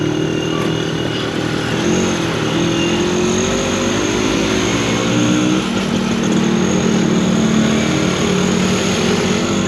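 A motorcycle taxi engine drones steadily while riding on the road to Tuguegarao in Cagayan province, a loud continuous hum with slight pitch shifts as the throttle changes, close and unbroken throughout.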